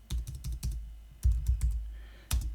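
Sharp bursts of keystrokes on a computer keyboard while a command is entered on a Raspberry Pi, coming in quick clusters with short pauses, close and clear with no talking.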